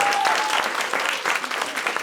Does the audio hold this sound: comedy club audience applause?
yes